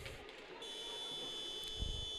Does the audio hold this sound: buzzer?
yes